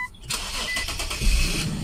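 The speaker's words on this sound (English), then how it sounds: "all right so the engine is running now" An Infiniti Q50 engine cranks and catches, then settles into a steady idle, recorded close and loud with no one talking.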